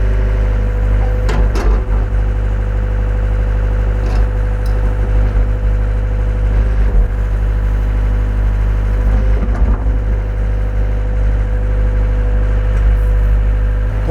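A 2019 Hyundai HW60 wheeled excavator with its diesel engine held at 1540 RPM, a loud, steady, close-up drone with a deep rumble and faint clanks from the machine's movements, with no talking.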